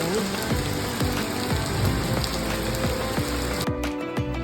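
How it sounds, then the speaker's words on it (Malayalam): Steady, dense rain patters on a surface throughout, a constant hiss with a faint repeating mechanical whir in the background. "ഇപ്പം പെയ്യുന്നുണ്ട് നല്ലൊരു മഴ"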